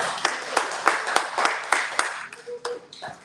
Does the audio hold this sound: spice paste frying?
no